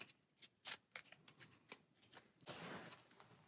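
A deck of cards for the Altar Quest board game gets shuffled at close range: quiet, rapid riffling clicks and taps, then a sustained burst of flutter as the cards cascade together.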